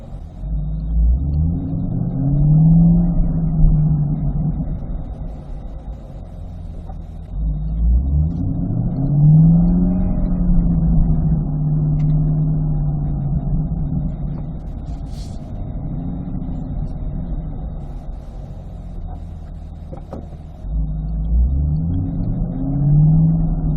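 A Chevrolet Corvette C8 pulls away repeatedly from starts and stops, its engine note rising in three separate acceleration sweeps, each settling into a steady rumble, heard from inside the car with no talk.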